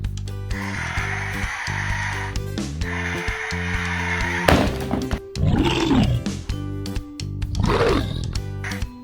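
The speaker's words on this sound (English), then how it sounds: "bear" A bear roars and snorts in several rough, growling bursts, loud and close, with breathy gaps between calls over a steady musical backing.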